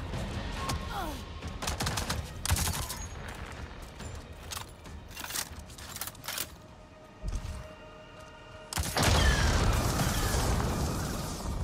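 Gunfire in the video game Avatar: Frontiers of Pandora, a series of sharp shots and bursts scattered across a busy combat soundscape, with a louder, denser volley near the end.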